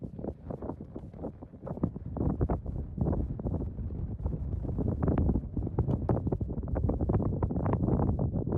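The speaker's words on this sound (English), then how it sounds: "Not sure how this is gonna sound because there's some wind" Wind buffets a microphone on the summit of El Diente Peak in Colorado's San Juans, loud continuous low rumbling gusts filling the whole stretch with no voices.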